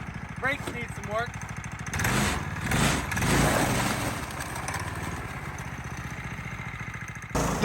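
A go-kart fitted with a Harbor Freight Predator 212 6.5 hp Hemi engine runs at a steady idle-like putter, revving up partway, while someone talks over the engine throughout.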